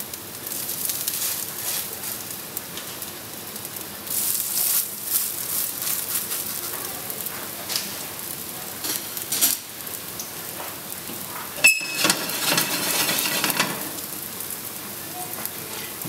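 Tuna patties frying gently in a little olive oil over low heat, a continuous hiss and fine crackle like light rain, steady and close, with a brief clatter partway through.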